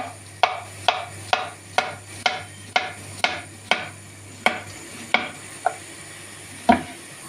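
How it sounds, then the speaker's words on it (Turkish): A sharp knife chops a banana on a cutting board about twice a second, a dozen or so crisp taps at close range, with a faint low hum underneath. "Bir tane de muz doğrayacağım Böyle."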